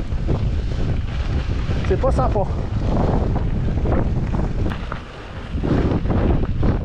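A roaring 50 km/h gust of wind buffets the microphone on a steep hillside near Roses, Spain, during a mountain bike ride, a continuous loud rush that dips briefly near the end while someone speaks over it.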